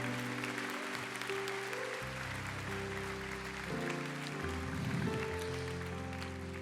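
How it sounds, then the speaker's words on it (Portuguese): A church congregation claps in a soft, steady wash of applause under sustained keyboard chords. "A igreja aplauda o Senhor."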